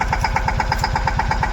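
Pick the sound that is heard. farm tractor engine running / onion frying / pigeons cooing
farm tractor engine running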